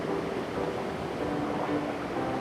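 Steady broadband roar of Bomburu Ella waterfall on the Dulganga river, a tributary of the Mahaweli, heard close and constant with no breaks or voices.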